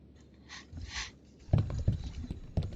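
A frayed, taped headset cord rubbing and bumping against a table, close and quiet, with soft breathy scuffs at first, then several sharp low thumps and scrapes in an uneven rhythm.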